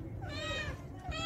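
A mother cat gives a soft, drawn-out meow while giving birth to kittens, faint and close, with a person speaking quietly over it.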